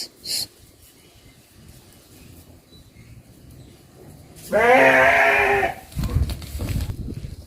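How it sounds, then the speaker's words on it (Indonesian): A passing flock of sheep bleats once clearly out front of a house, a single loud harmonic call mid-clip, with faint outdoor background noise and a few scattered thumps around it. "lewat lumayan banyak loh domba-domba"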